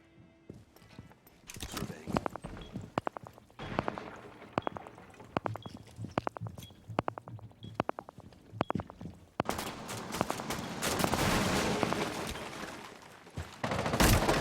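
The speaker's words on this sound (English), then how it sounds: "Expert takes a whole lot of gunfire" Rapid gunfire in a tactical shooter match rattles in sharp bursts and single cracks, moderately distant, followed by a denser stretch of shots and crashing noise.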